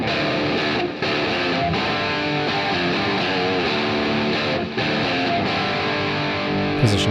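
An old Stratocaster electric guitar pulled from the trash plays through distortion on its bridge pickup: sustained, saturated chords and riffs ring loud and close with brief gaps between phrases, and no voice.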